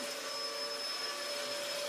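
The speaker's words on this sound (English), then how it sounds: "Nobody's afraid of the vacuum sweeper." A vacuum sweeper runs nearby, a steady loud whine and whoosh that holds constant throughout with no talking.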